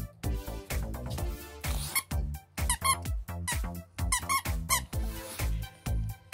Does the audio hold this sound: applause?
no